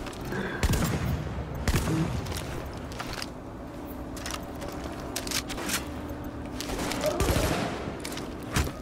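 Gunfire from shooting enemies in The Division crackles in rapid bursts and scattered single shots, loud and near, with a voice talking over parts of it.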